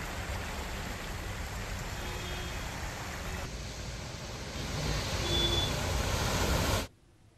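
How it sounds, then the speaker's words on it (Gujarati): Rain falls steadily in Ambaji, Banaskantha, Gujarat, a continuous broadband wash that swells louder for a stretch before cutting off abruptly near the end. "બનાસકાંઠાના અંબાજીમાં પણ વરસાદ પડી રહ્યો છે"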